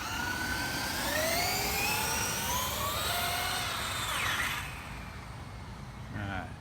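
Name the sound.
Traxxas Unlimited Desert Racer RC truck motor at full throttle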